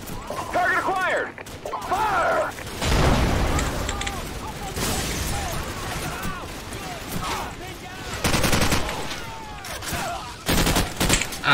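Bursts of automatic gunfire and explosions fill a Call of Duty: Modern Warfare battle, rapid volleys and booms rising and falling with voices shouting over the combat.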